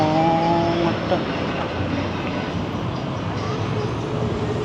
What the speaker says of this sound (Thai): รถไฟมาแล้วรถไฟมาแล้ว